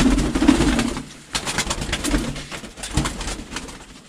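Pigeons coo softly in a pigeon loft. Repeated low, throaty calls come from close by against faint background noise, with no talk.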